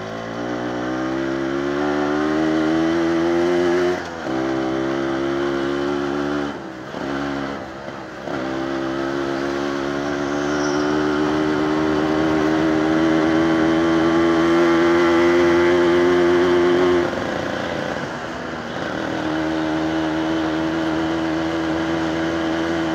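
A modified Yamaha RX135 two-stroke motorcycle with an underbelly exhaust idles and revs loudly up close, its engine note rising and falling in several blips across the span with no talking.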